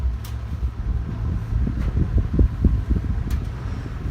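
A Moss Caribbean Breeze 36-inch ceiling fan runs on high speed, a steady close whooshing roar of moving air with fluttering, buffeting gusts and faint rattling ticks throughout.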